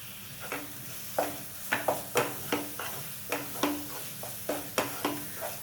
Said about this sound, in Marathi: आणि हे व्यवस्थित परतून घ्यायचं आहे आपल्याला, बाजूला तेल सुटेपर्यंत परतून घ्यायचं